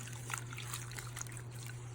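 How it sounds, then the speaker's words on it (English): Fresh dendrobium orchids dipped and swished in a bowl of water to rinse off insects and dust, a soft continuous trickle and dribble with small splashes over a steady low hum, no talking. "You want to dip them all in water so the insects come off, and as well as the dust."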